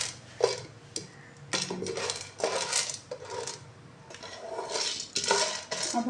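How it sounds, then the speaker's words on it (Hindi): A spoon stirs popcorn kernels in a pan, giving a run of irregular metallic scrapes, clinks and rattles at close range with short pauses between strokes, with no talking. "चम्मच की मदद से हिलाते रहेंगे।"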